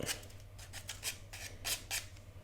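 A nail file rasps back and forth as sandpaper to knock nubs off a handmade mini album, quiet, close, rhythmic strokes in short bursts with no talking.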